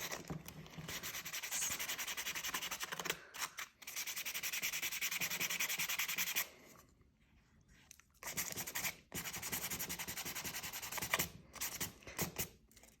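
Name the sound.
sandpaper sanding leather edge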